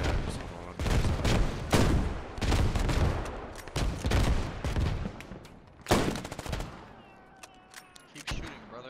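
Gunfire in the military shooter Squad: dense, repeated bursts of rifle and machine-gun fire, loud and close, in rapid volleys that ease off toward the end, with faint voices mixed in.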